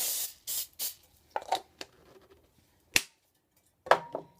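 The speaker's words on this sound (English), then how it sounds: "I'm going to put a little bit more of the spray on here" Cooking spray hisses onto a waffle iron in a few short bursts at the start, followed by sparse clicks and light handling sounds, close and fairly quiet.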